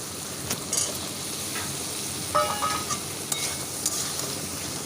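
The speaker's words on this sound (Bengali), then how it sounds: "আলুটা দিয়ে বেশ কিছুক্ষণ কষে নেব" Potatoes and jackfruit seeds stir-fried in a pan, a steady sizzle running throughout with scraping stirs and a few light clinks of the utensil against the metal.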